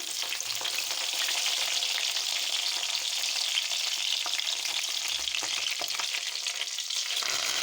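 Cumin, dried red chillies, curry leaves and garlic fry in oil for a broad bean pickle, a loud, dense crackling sizzle running steadily throughout, with a few stirring scrapes near the end and no voices.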